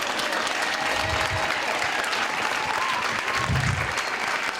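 Sustained audience applause at an address to African leaders, a steady wash of many hands clapping at moderate distance, continuous throughout without voices breaking through.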